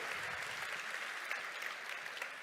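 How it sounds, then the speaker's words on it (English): Applause from the audience at a business gala honouring a former Italian prime minister, a fairly quiet, distant, continuous patter of many hands that keeps an even level, with no voices on top. "Let's applaud him."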